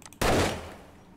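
A single loud gunshot from the 7 Days To Die video game, sharp and close, with a booming decay that fades over about a second.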